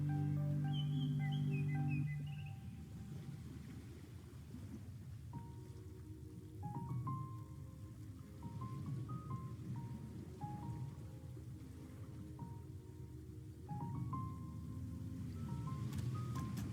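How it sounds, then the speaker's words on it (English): Rain falls in the Roblox game Fishing Simulator, a soft, steady patter that carries on in the background under faint game tones. "So now you can actually have, you know, rain and thunderstorms and that kind of stuff"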